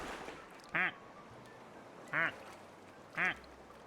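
Three evenly spaced, loud nasal duck quacks ring out in a video game, each short and alone over a quiet, hissy background.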